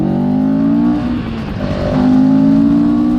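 CFMOTO 700 CL-X Sport motorcycle engine drones loud and close through its muffler, a steady low hum that dips briefly mid-way and then swells back up.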